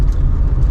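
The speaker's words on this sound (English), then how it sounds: "she sounds so smooth as well, that engine does" Steady low rumble from the engine of a Mk2 VW Golf GTI Harlequin running smoothly on the road, a continuous close drone with no talk over it.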